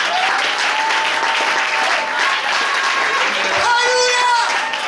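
Church congregation applauding steadily throughout, a dense wash of clapping with cheering voices and musical tones rising near the end.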